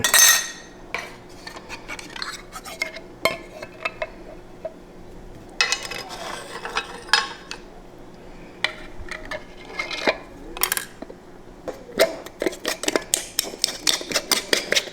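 Lids are set onto glass canning jars packed with tuna, producing a scattered series of close, sharp metallic clinks and taps of varying strength, some in quick bursts, with no talking.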